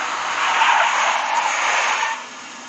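A big black Mercedes skids hard in the mobile Max Payne game, a close, loud tire screech lasting about two seconds before easing off into a quieter engine tail.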